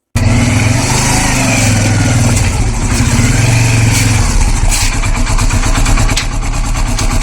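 A motorcycle engine runs loud and close as a ride begins. Its mid-pitched drone holds steady with slight swells in revving throughout and no voices.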